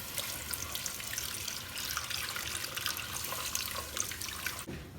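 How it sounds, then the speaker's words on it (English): Steady splashing pour of liquid into a pot, a continuous watery rush that holds for several seconds, then cuts off abruptly near the end. "Then I'm going to pour in my liquid,"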